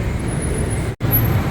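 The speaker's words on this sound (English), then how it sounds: "Lots of traffic." Dense road traffic fills a Ratchadamri Road intersection in Bangkok with a continuous loud roar of cars and buses, broken by one brief cut to silence partway through.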